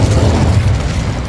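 A deep, loud Confringo spell explosion in Hogwarts Legacy, a single heavy boom with rumbling low end that fills the short moment.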